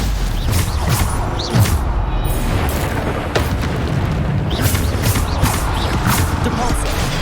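Bombarda spell blasts in Hogwarts Legacy come as repeated booming bursts over a constant background roar. The explosions are loud and close, with several sharp hits spread across the clip.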